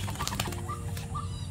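Pigeon released from the hand, with a short burst of close wing flaps followed by a low, steady background hum.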